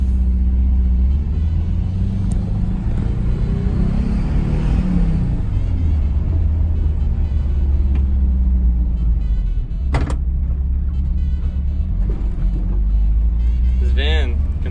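A Volkswagen Vanagon van driving on the road, its steady loud engine rumble and road drone continuous throughout from inside the cabin, with a brief sharp click partway through.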